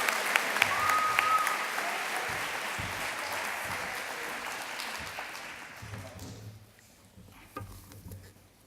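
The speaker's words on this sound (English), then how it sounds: "Give him a round of applause." Audience applause for a guest introduced on stage at a talk, a dense wash of clapping that holds steady for several seconds, then thins and fades out near the end.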